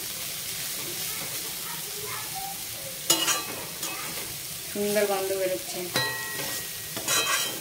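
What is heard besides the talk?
banana flower frying, stirred with cardamom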